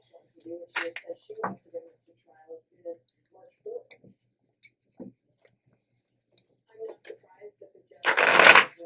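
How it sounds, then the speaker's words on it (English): Tarot cards are handled and shuffled in short, soft bursts with pauses between, ending in a louder riffling flurry close by. "all of the cards get a good shuffling and clearing before I start the reading"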